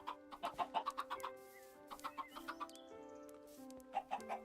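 Chickens in a video game cluck in quick repeated bursts over a steady background music drone, pausing midway and then clucking again near the end.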